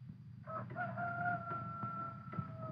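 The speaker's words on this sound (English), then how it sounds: "Listen to that rooster crow." A rooster crows once in a long, drawn-out call in a 1946 film noir, heard at moderate distance over a low, steady background hum.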